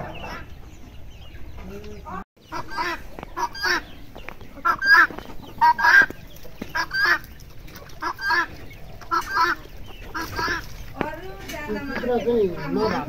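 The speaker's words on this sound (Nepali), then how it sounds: "लोकल कुखुराहरू उहाँले छोड्नु हुँदो रहेछ जङ्गलभरि" Free-range local chickens roaming a forest farm, a flock clucking in repeated short bursts close by, with people talking in between.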